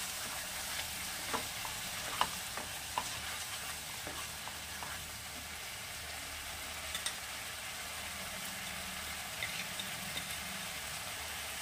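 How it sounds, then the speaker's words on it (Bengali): Whole spices with half a spoon of turmeric powder sizzle in a pan for shahi aloo dum, a steady low hiss broken by scattered scraping stirs, close and moderately quiet without speech. "দিয়েছি 1/2 চামচ হলুদ গুঁড়ো, একটু নাড়াচাড়া করে নেব।"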